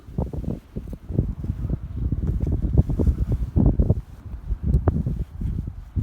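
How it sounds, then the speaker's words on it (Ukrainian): Strong, gusty wind buffets the microphone continuously during metal-detecting in Ukraine, a loud roaring rumble with no voices. "вітер шалений"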